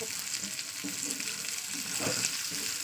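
Pointed gourd slices sizzle steadily in a pan of hot oil, a close, soft crackling hiss with occasional stirring scrapes and no talk.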